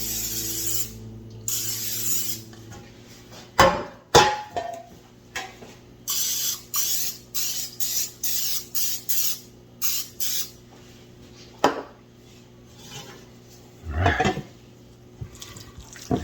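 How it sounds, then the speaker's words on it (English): Several short bursts of non-stick cooking spray hiss in quick succession, close up, with pauses between them and faint clinking in the background. "You're gonna want to get some non-stick spray in there"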